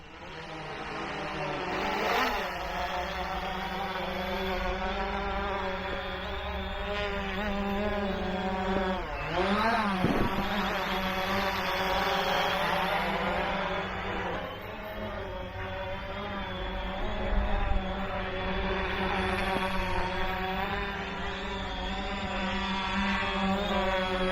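A Xiaomi Fimi A3 drone flies in gusty wind, its steady high motor whine wavering in pitch as it holds position and rising briefly in a couple of swells, with no speech.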